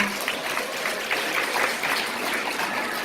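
A crowded audience at a motivational corporate event claps in a steady roar of many hands, moderately loud and sustained without pause.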